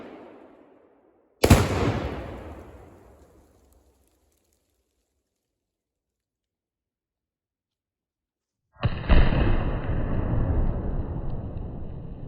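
An AR-15 rifle fires during a torture test, set off from a safe distance: a single loud shot with a long fading echo, long silence, then a second sharp report with sustained rumbling noise trailing behind it.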